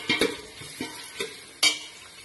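Vegetable Manchurian balls fry in oil in a pan, heard as a few sharp stir-and-clatter strikes spaced irregularly over a faint sizzling background, close by.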